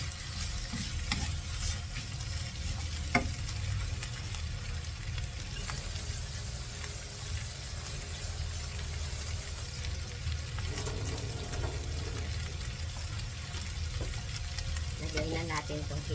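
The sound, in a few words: shrimp and squid cooking in coconut milk, stirring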